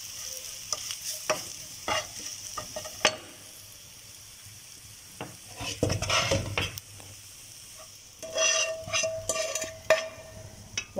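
Rice being mixed with chilli powder for garlic rice, a spoon scraping and stirring through the pan in irregular bursts with soft clinks, fairly close, no talking.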